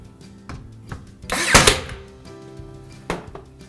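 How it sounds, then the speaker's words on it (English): A nail is driven into a glued wooden miter joint with a sharp burst of impact noise near the middle, set among smaller taps and knocks and a final clear thunk. "I just put that bottom nail in"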